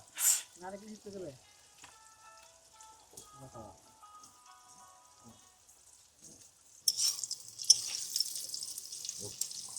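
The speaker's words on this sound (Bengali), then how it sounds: "পটল তো প্রায় ভাজি হয়ে গেছে" Pointed gourd slices fry in oil aboard a river fishermen's boat. People talk over a quiet background at first, then a louder crackling sizzle rises and continues as the vegetables brown.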